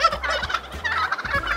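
Turkeys gobble in a loud, close burst of rapid, rattling calls that repeat over and over without pause, with no talking.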